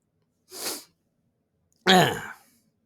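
Two separate harsh bursts, one short and one stronger and longer, like coughs or sneezes close to the listener, with silence between them.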